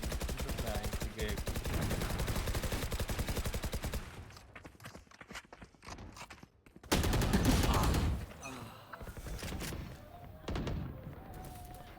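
Rapid automatic gunfire in the video game Valorant, a fast rattling stream of shots for several seconds followed by scattered bursts and thuds, with players talking between the volleys.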